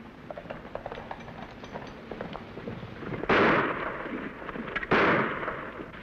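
Two sharp gunshots from a radio western drama crack out about a second and a half apart, each loud blast leaving a ringing tail over an ambient background of distant scene noise.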